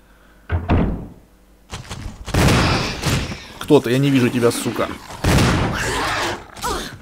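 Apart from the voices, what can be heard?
shotgun shots in video game Resident Evil HD Remaster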